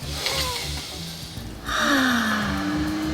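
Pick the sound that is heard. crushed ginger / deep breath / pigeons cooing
deep breath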